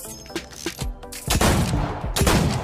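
Repeated gunshots from pistol fire in Fortnite, including shots through walls: several sharp cracks spaced irregularly at first, then denser overlapping bursts and impacts, fairly loud and close with no talking.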